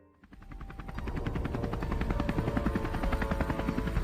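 A helicopter hovers close by, its rotor beating in a rapid steady chop that swells from quiet to loud and then holds.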